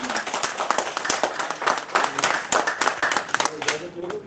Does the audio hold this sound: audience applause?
yes